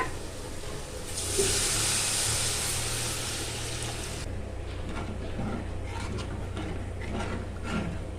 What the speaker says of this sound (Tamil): பாருங்க, கொதி வர ஆரம்பிச்சிருச்சு.